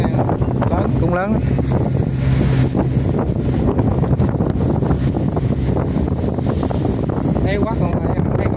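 Large Vietnamese net fishing boat under way at sea, a loud constant rumble of engine, water and wind buffeting the microphone, with voices speaking over it.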